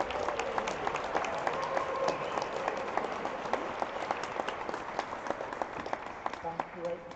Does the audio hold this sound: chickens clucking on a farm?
no